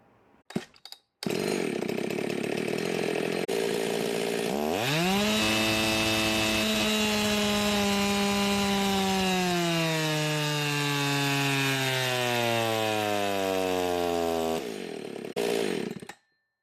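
A Husqvarna 372 XP chainsaw engine revs up on a dyno to a loud, sustained scream that shifts pitch as it is loaded, with brief starting sputters before and a cutoff at the end.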